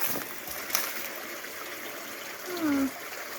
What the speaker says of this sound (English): You can listen to the babbling brook.